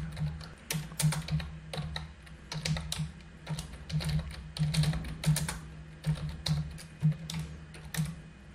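Someone types code on a computer keyboard in quick, irregular bursts of crisp key clicks, close and fairly quiet, with short pauses between runs and no talking.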